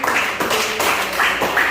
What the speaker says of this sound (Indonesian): Oke, tepuk tangan untuk Emma.